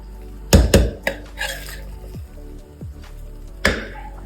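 Chicken biryani being scooped from a pressure cooker into a serving dish, with a few sharp clanks of a metal ladle against the pot rim and softer scraping thuds between them, close and without voices.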